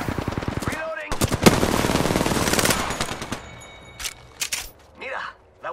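Automatic weapons fire in Apex Legends, with a dense, close burst of rapid shots followed by scattered single cracks and brief voice callouts.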